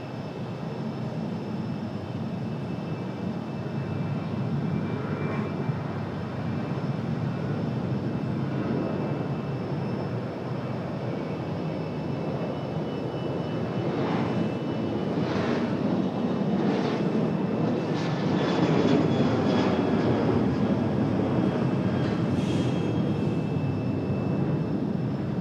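Delta flight 1097, an airliner, departs with a steady, distant jet roar that swells slowly and stays continuous throughout.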